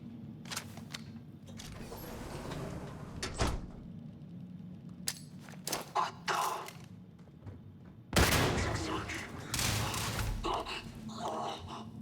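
Gunfire in the video game Starfield, several sharp shots and bursts scattered across the clip, with a heavier salvo near the end, no talking.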